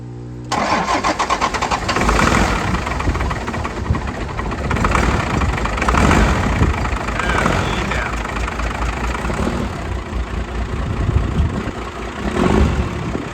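A seized and flooded Dodge W350 with a 12-valve engine, left sitting for about a decade, cranks and catches, then runs loud and rough at steady throttle for several seconds, close up.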